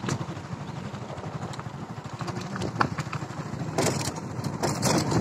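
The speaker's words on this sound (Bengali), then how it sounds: "আমরা এখন মোটর বাইকে করে এগিয়ে যাচ্ছি।" A motorbike rides along village roads in rural Bangladesh, its engine a steady mid-pitched drone with wind rush, growing slightly louder and rougher toward the end, with no one speaking.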